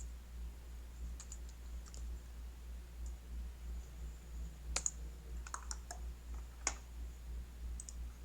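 Sparse, quiet clicks of typing on a computer keyboard, irregular bursts of a few keystrokes over a low steady hum.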